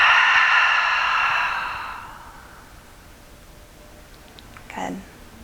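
A long, deep breath pushed out through the mouth, a soft airy rush that fades over about two seconds, followed by quiet and a faint later rustle.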